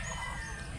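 Roosters at a fowl-selling gathering in Mantalungon, Barili, Cebu, a short moment of clucking and crowing calls at moderate distance over a dense, low background din.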